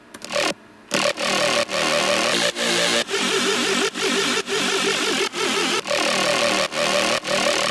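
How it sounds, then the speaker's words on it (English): A plush, wobbly synth lead designed in Serum, heard alone after a short gap: a loud, bright, gritty tone that wobbles rhythmically in short repeated pulses, with swirling harmonics shifting throughout. "wobbly lead that you're hearing in the overall mix."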